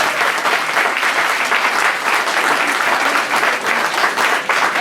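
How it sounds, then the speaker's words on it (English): Sustained, dense audience applause for a singer's performance at a charity talent show, loud and close, a large crowd clapping continuously without any voices over it. "I think that deserves a round of applause by itself."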